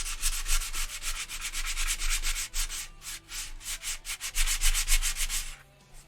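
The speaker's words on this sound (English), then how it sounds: "Those emotes of Hank sanding" Hand sanding on the wood of a musical instrument: rapid, rhythmic back-and-forth scratchy rubbing strokes, close and steady, with no voices.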